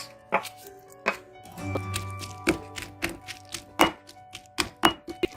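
Onions are pounded in a mortar and pestle for a smoky eggplant dish, giving a series of sharp, uneven thunks and taps spaced about a second apart, close and clear, with a brief low hum partway through.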